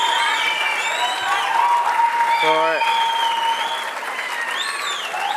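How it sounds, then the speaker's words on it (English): Sustained applause from an audience at a shooting world cup final for a 10m air rifle athlete, steady and dense throughout, with an announcer speaking over it. "A very, very big applause"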